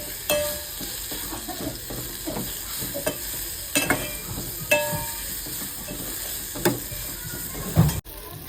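Onion fries in oil for a dhaba-style Malvani chicken, crackling steadily while a spoon scrapes and stirs the pan in repeated sharp knocks and clatters, close and fairly loud, with no voices.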